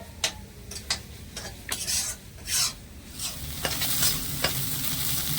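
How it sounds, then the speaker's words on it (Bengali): Soybean chunks fry in a pan with turmeric and salt, a continuous close sizzle punctuated by repeated metallic scrapes and taps of a spatula stirring, with short bursts of louder crackle. "তো এখানে আমি খুব সুন্দর করে এই সয়াবিনটা ভেজে নিয়েছি"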